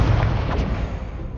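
A fire spell cast in the Hogwarts Legacy video game erupts as a loud, deep whooshing burst that sits heavily in the low end and fades over about a second, with no voice over it.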